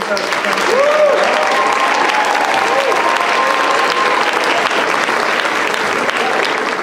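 Audience applause for a championship-round winner at a school quiz event, a dense, steady wash of clapping from a large crowd that stays loud throughout, with faint cheers or voices mixed in.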